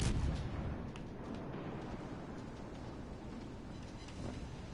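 Warship guns firing in a naval video game, shots lobbed over a rock toward an enemy ship's citadel; a loud boom at the start gives way to a sustained rumbling roar with faint later thuds, no talk.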